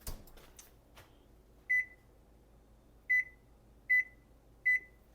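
An oven timer sounds four short electronic beeps at uneven intervals in a quiet kitchen after a faint clatter at the start.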